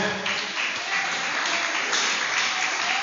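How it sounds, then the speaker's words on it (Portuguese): A church congregation applauds during a Portuguese-language sermon: dense, steady clapping from many hands, fairly close and loud, holding evenly from start to finish with no talking over it. "Você pode aplaudir a palavra do Senhor?"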